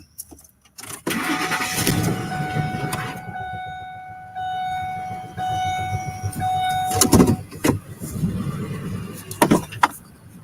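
A car engine cranks and catches, then idles steadily with a low rumble before pulling away for a drive near Allendale, Michigan, with brief honks and clatter.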